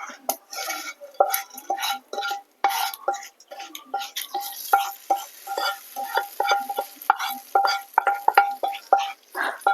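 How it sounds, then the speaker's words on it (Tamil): A tempering is poured into a pan for a roasted peanut chutney, with a light sizzle under repeated metallic clinks and scrapes from a spoon against the vessel, falling into an uneven, rapid rhythm close by. "இப்போ இதை தாளிப்பு எடுத்து நம்ம வந்து சட்டியில ஊற்றிப்போம்"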